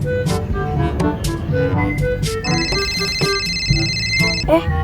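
A phone ringtone chimes in a steady electronic pattern for a couple of seconds amid a busy mix of voices and other sounds.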